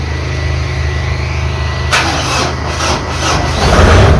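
A Kubota 95 hp tractor engine, its battery a little low, cranks and catches with a sudden loud broadband roar partway through, then keeps running with uneven rumbling bursts up close.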